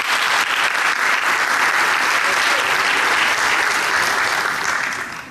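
Audience applause welcoming a singer onto a Turkish TV music show stage, a dense, loud, steady wall of clapping lasting several seconds before tapering slightly at the end.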